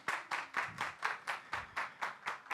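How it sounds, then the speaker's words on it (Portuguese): Applause for chef Anderson Oliveira, heard as about ten slow, evenly spaced claps, sharp and fairly close, in a steady rhythm with nothing else over them. "Uma salva de palmas para ele."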